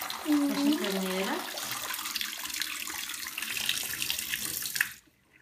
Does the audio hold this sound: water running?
yes